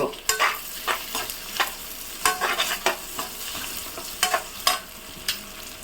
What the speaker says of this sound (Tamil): பாருங்க நம்ம வெங்காயம் பாதி வதங்கிடுச்சு.